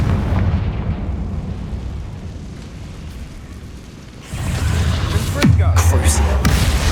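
In the video game Hogwarts Legacy, a Confringo fire spell sets off a rumbling explosion, followed by a swelling whoosh and a low sustained roar that play under game speech.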